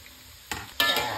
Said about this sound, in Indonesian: Ini kalau goreng tempe harus sabar ya, karena menggorengnya lama sekali.